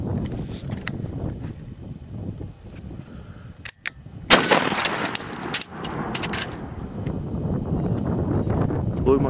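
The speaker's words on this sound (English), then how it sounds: "Yep, 1 ounce slugs. Here we go. Remington 870." A Remington 870 shotgun firing 1 ounce slugs outdoors, heard as a sharp loud blast with a brief rolling echo over steady wind noise on the microphone.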